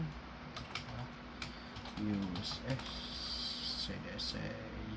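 Keys clatter on a computer keyboard in quick, uneven bursts of close taps, with a soft voice speaking under the clicking.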